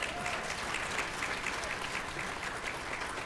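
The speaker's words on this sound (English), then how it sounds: "You can clap for that." A PAX East 2012 panel audience at a talk on freelance game journalism breaks into applause, a dense, steady wash of clapping from many hands sustained at an even level throughout.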